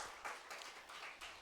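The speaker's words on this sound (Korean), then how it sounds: "1사역팀 김종화 장로님, 한번 일어나서 박수 받겠습니다." Faint applause from a church congregation honoring an elder, a soft patter of clapping heard at a distance across the room.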